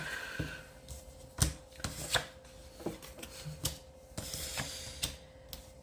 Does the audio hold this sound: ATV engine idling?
no